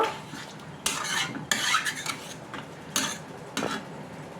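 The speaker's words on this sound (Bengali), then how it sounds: "এবার এটাকে একটু ভালো করে গরম জলটাকে মিশিয়ে নেব।" Mutton korma being stirred in a pot after hot water is poured in, with repeated scraping and clinking of a spoon against the pot and a soft background bubble, no voices.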